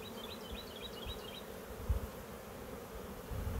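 A honeybee colony being readied for honey production buzzes steadily and quietly throughout, with a few brief higher insect whines drifting past near the start.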